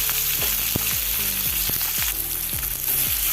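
Four finely chopped onions fry in hot oil with mustard seeds in a kadai, a constant close sizzle broken by repeated scraping strokes of a spoon stirring the pan at a fairly regular rhythm.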